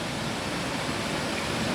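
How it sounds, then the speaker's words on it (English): Mossy stream and waterfall at Punakaiki, a steady broadband rush of flowing, splashing water, close and continuous with no other sounds. "The waterfall is just taking up the top"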